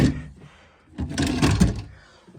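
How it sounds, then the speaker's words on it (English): Cabinet drawers in a 2005 Gulf Stream Ultra Super C motorhome, model 6331, slide and knock shut in two quick bursts of rattling clatter, close by, with no talk. "all these drawers are pretty good, except for this one needs a hinge on it, but the rest of the drawers open up good"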